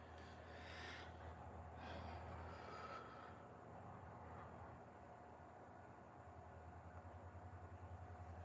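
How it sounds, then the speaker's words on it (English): A train passes at a distance as a low, steady rumble runs through the whole stretch, with a few breathy hisses rising near the start. No one speaks. "Oh, I hear the train."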